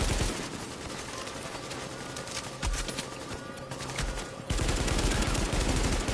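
Sustained automatic gunfire in The Division's Dark Zone, loud, dense rapid bursts that fill the whole stretch without pause, with a sharper surge of shots near the end.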